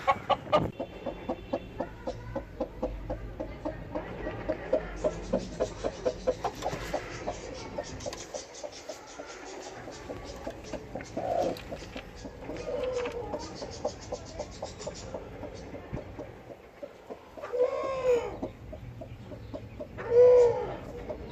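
A broody hen clucks close by in low repeated bursts, a steady throaty rhythm with occasional louder calls and brief quiet gaps.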